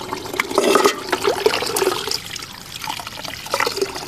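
Soaked plant pulp wrung out by hand over a bucket of water, liquid splashing and trickling back in close and fairly loud, dripping off more softly toward the end.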